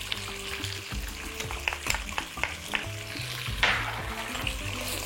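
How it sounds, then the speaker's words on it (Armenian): Lamb frying in a pan with grainy mustard, dried thyme and spices, a soft close sizzle broken by repeated scraping stirs and clicks of a utensil, with a low hum beneath. "շարունակում ենք տապակել, թող համեմունքների բույրերը բացվեն"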